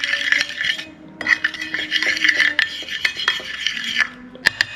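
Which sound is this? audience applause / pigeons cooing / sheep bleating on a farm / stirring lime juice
stirring lime juice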